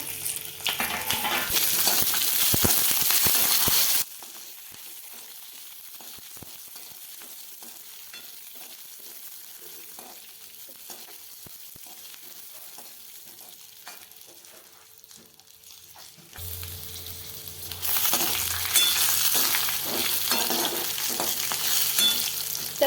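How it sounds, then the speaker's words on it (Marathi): Steady sizzling of a spice mix frying in hot oil in a wok, with bursts of louder crackling and stirring at the start and end; no talking. "हे सगळं मसाला एकत्र याच्यामध्ये टाकून असं मस्तपैकी भाजून घेणार आहे मी"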